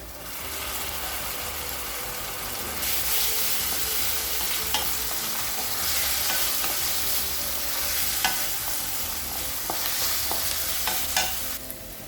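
Ginger garlic paste sizzles and fries in hot oil with fennel seeds, curry leaves and onion for a Tamil cabbage masala poriyal, with steady close stirring and scraping in the pan throughout, no talking.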